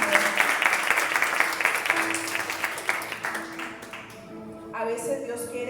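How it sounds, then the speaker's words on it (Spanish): A church congregation applauds, a dense wash of clapping that fades out after about four seconds, after which a voice speaks. "Dele un aplauso al Señor."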